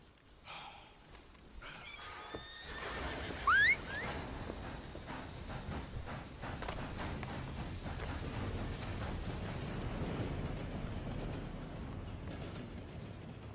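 A horse in the video game Red Dead Redemption 2 gives a short, rising whinny and snort amid steady outdoor game ambience and rumbling background noise.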